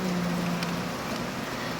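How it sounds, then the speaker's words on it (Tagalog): Heavy rain falls in a steady, dense wash of hiss, loud and continuous throughout, with a faint low hum underneath at first. "Sorry, malakas pa rin yung ulan."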